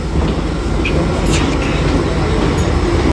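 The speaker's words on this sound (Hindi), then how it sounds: "चलते हैं अभी ट्रेन आएगी" A train pulls into a London station with a loud, continuous rumble and rail noise close by, alongside a brief high squeal of wheels and some faint voices in the background.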